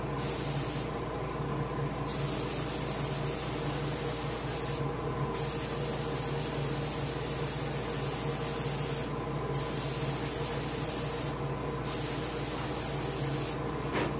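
An airbrush hisses continuously as it sprays paint onto a largemouth bass for taxidermy, a steady close airy spray with brief pauses and no talking.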